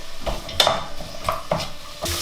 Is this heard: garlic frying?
yes